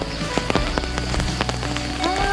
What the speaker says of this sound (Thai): อันนี้ก็เป็นบรรยากาศจากฝนตกนะคะ